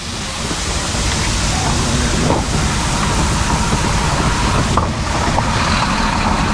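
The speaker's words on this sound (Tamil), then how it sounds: "அந்த இடத்துல ஒரு அருவி கொட்டிகிட்டு இருக்குது, பக்கத்துலேயே வந்து ஆறு ஓடுறதையும் பார்க்க முடியுது" A waterfall and river rushing through a valley in Pakistan, a loud, steady, broadband roar of falling and flowing water that fills the whole scene without letting up.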